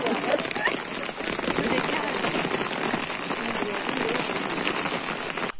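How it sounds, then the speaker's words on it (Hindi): Heavy rain pours steadily during a walk home on a trek to Deoriatal, a dense, continuous hiss that stays loud and even throughout. "बहुत तेज बारिश हो गई है"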